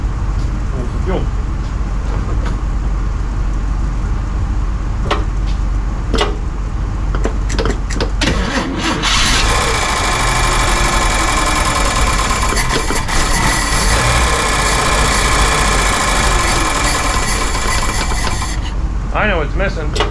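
A 1955 Chevy engine cranks and catches on leftover carburetor fuel, then settles into a loud, rough idle close by, with voices talking over it.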